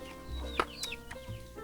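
A rooster clucks in a few short, faint calls among soft background noise, with no talk.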